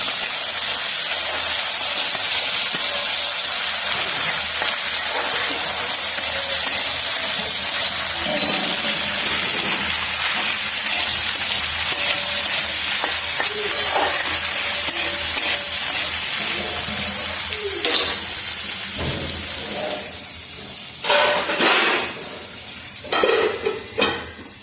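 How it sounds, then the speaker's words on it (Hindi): Vegetables frying in sunflower oil produce a steady, loud sizzling hiss that continues for over twenty seconds, with a few utensil clinks and scrapes toward the end. "मैंने सब्जी को वाइट तेल में, सनफ्लावर तेल में इसको फ्राई कर रही हूँ"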